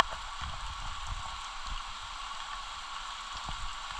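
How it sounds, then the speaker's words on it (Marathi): Light rain in the Konkan region near Ratnagiri patters steadily and softly on surfaces, a faint, even hiss with scattered drops and no talking. "गार वाटलं, भिजतोय पावसामध्ये मी."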